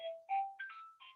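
An older telephone rings with short repeated tonal bursts that step upward in pitch. It is close and clear, with no voices.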